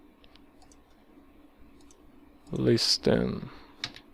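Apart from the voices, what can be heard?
typing on computer keyboard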